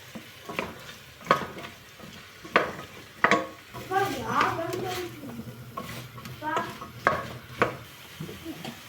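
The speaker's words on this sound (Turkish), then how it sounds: "Hemen salçayı da katıp güzelce kavuruyorum." Tomato paste is sautéed and stirred in a pan, with rhythmic scraping strokes of a spoon against the pan over a low sizzle, close by, while a voice comes in partway through.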